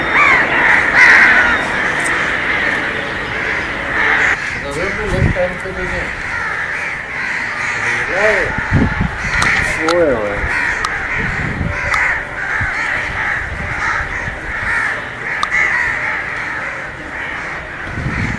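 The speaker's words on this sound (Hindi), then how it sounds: "उसकी छत पर हजारों कौवे आ गए यार" A large flock of crows caws over a rooftop, loud and constant with overlapping harsh calls, mixed with a voice speaking throughout.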